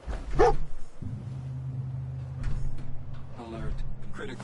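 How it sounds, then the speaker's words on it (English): A dog barks once in a PS4 video game, sharp and short near the start, with a low engine-like hum beneath and faint voices later. "I'm gonna hear that damn dog barking in me sleep."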